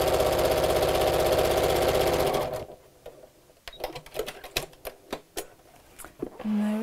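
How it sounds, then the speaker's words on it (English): A sewing machine stitches down the second side of a dust cover to hold a pocket edge, running in a loud steady buzz for over two seconds, then stopping, followed by scattered clicks and small handling taps. "we'll just sew down the second side here, just to hold the edge of the pocket in place"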